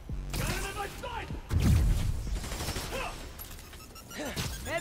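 Rapid bursts of gunfire from enemy soldiers in a Miles Morales Prowler video game, loud and close, with a heavy thump near the middle and shouted voices and game sounds over the top.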